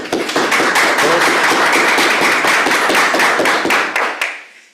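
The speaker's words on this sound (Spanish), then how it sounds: "Un aplauso a todos." Symposium audience applauds at the close of a panel on Irish studies, a dense burst of many hands clapping close and loud for about four seconds before quickly dying away.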